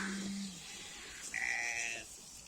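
Goats on a farm bleating, a low short call followed by a higher, longer nasal bleat nearby, with no talking.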